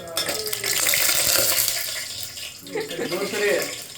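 Water pours and splashes into a pan of garlic and dried red chillies, sizzling and bubbling steadily, with a person talking over it.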